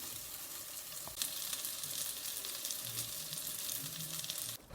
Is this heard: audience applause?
no